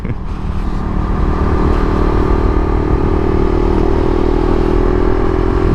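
2022 Husqvarna Vitpilen 401 motorcycle accelerating, a loud close engine drone with rising revs layered over constant wind rush, steady and unbroken for the whole stretch.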